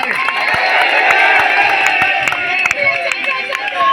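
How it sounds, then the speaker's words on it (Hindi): Crowd at a rally at Jantar Mantar in Delhi clapping and shouting slogans, a loud dense mix of claps and voices, with a louder voice speaking over the noise. "जोरदार तालियां इनके लिए, नारे लगाओ, नारे"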